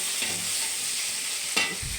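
Tomatoes sautéing with onions in a pan for sambar make a continuous close sizzle, with a sharp stirring scrape near the end and no voices.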